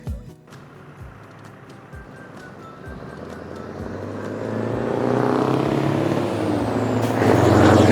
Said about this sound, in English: All right, this is a gray and blue container truck.